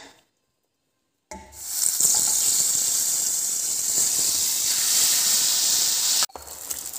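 Onion, green chili, ginger and garlic paste hit hot oil and sizzle loudly and steadily after a brief silence, with a sharp hiss that cuts off near the end.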